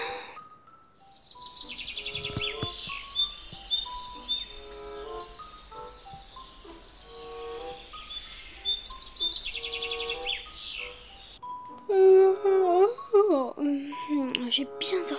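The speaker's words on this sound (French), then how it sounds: "quand on se réveille, on entend les petits oiseaux" Small birds chirp and tweet in a morning scene in the Roblox game Brookhaven, a busy layer of repeated high calls with quieter game ambience and a brighter burst of chirps near the end.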